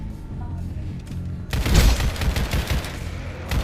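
Sustained bursts of automatic gunfire in a shooting video game, loud and dense, kicking in abruptly after a quieter stretch and rattling on continuously.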